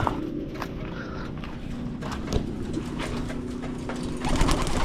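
Pigeons coo steadily in a pigeon loft, a continuous layered murmur of soft calls with a few sharper clicks and rustles close by.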